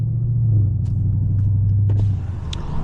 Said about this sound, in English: I'm gonna try my best to let you boys hear how the car sound